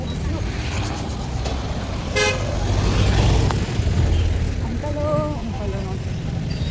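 A road vehicle approaches with a short burst of rapid honks, then a couple more horn toots a few seconds later over rumbling traffic noise, with a voice speaking nearby.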